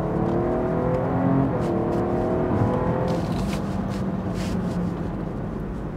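A 2023 BMW X7 xDrive 40i accelerates with a steady engine drone that rises in pitch, heard from inside the vehicle over constant road and wind noise.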